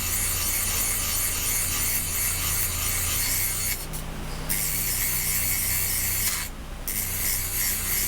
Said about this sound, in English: hold it at an angle so you're grinding it down